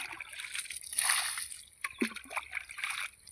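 Water scooped up and poured out of a filled pit in an outdoor rural setting, heard as a few soft splashes, sloshes and trickling pours at close range.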